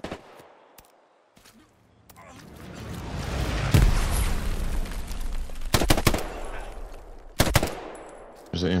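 Video game machine gun fire in an infantry battle: scattered bursts and single sharp shots ring out over a rising rumble, some distant, a few loud and close, with talk in between.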